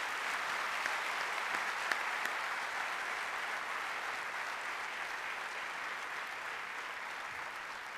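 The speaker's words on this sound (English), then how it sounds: "I think you need to give them a massive round of applause for what they have done for you guys." A graduation convocation audience at a university campus gives a sustained round of applause, even and dense clapping from a large crowd heard at a slight distance, steady for the whole stretch.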